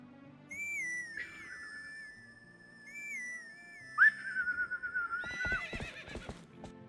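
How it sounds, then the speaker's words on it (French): A horse in Zelda: Twilight Princess gives a long, whistling neigh, then after a pause another shrill whinny that trails into a run of clip-clopping hoofbeats, clear and isolated against a quiet game backdrop. "Le cheval."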